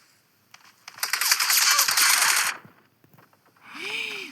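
Rapid bursts of gunfire from a shooting video game, a dense crackling volley lasting over a second, then scattered single shots and a closing synthetic game tone.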